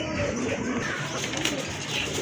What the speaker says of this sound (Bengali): এটা কিন্তু মাদিটা ডাকতেছে বন্ধুরা, এটা কিন্তু মাদি কবুতর।